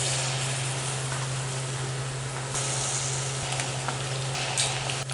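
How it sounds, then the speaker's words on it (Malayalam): Eggs fry in hot oil in a wok-like pan with a steady, close, continuous sizzle and hiss over a low electrical hum. "അതിലേക്ക് ഈ മുട്ട ഓരോന്നായി ഫ്രൈ ചെയ്തെടുക്കാം"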